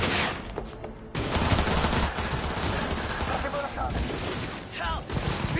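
Rapid gunfire rattles through a Cyberpunk 2077 firefight, dense bursts and single shots crowding together loudly and close, with combat voices shouting over the shooting.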